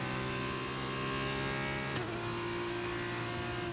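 An F2 race car engine in F1 22 drones at a high pitch as the car accelerates out of a corner, then briefly cuts and shifts before continuing its steady whine.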